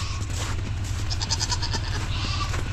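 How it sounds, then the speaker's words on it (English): Goats scream loudly and repeatedly at close range, shrill cries overlapping above a constant low hum. "Goats are screaming."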